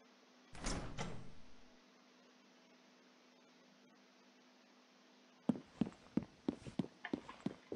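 In SWAT 4, a door swings open with a short sliding rumble, followed after a quiet pause by a string of sharp clacking impacts, faint overall with no speech.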